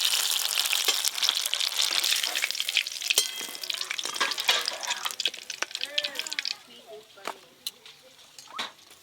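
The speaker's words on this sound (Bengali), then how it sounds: "এইটা হলেই সব টমেটোর চপ ভাজা হয়ে যাবে" Hot oil crackles and sizzles loudly as tomato chops deep-fry, with clinks of a utensil, fading to scattered pops near the end while voices talk.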